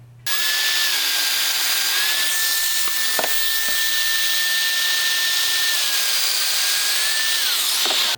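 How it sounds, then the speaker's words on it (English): A power domino joiner cuts mortises into the ends of a wooden garden gate sun ray, its motor whining steadily and loudly for about eight seconds with a slight shift in pitch, close and alone. "Now I can use this same cutter and the same setup to cut mortises for dominoes in both ends of this center extended sun ray."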